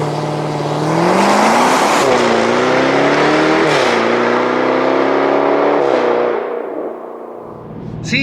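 A 2024 Jaguar F-Type R75 with an all-wheel-drive V8 accelerates hard, the engine roaring and climbing through gears with sharp shift breaks. The sound is loud and close from the cabin, then eases off at the end.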